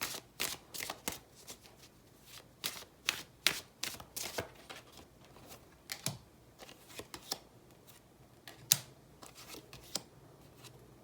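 Tarot cards shuffled by hand close up, a run of crisp riffling flutters and soft slaps in irregular bursts with short gaps, fairly quiet with no talk.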